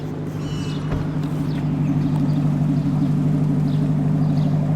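A 2014 Chevrolet Corvette Stingray with a Hennessey HPE 650 upgrade runs with its V8 engine, giving a steady, deep, throbbing rumble that stays even and close throughout.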